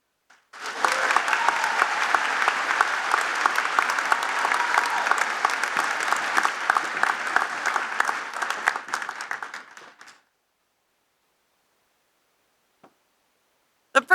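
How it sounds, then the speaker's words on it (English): Sustained applause from a banquet crowd honoring students at a high school academic honors event, loud and even for about nine seconds before cutting off into silence. "after I've read the next 5 names, we can applaud"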